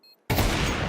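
A no-scope sniper shot in a Counter-Strike match bursts in sharply after a brief near-silent lead-in, followed by a loud, dense wash of gunfire and game noise that carries to the end.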